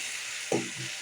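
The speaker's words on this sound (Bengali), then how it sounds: "এখন নেড়ে চেড়ে নেব।" Salted food frying in a pan gives a soft continuous sizzle, with a single brief stirring scrape partway through.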